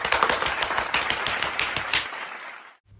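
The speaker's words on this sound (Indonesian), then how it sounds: "Sekarang, ayo kita beri tepuk tangan untuk Maria." A group applauds Maria, a quick, dense burst of close clapping that is loud for about two seconds, then fades away into near silence.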